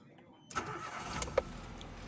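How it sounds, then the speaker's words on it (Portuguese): A 2011 Ford Fiesta turns over and fires up after a brief crank, then settles into a steady idle nearby, with a faint click partway through. "Vamos ligar o carro aqui para testar"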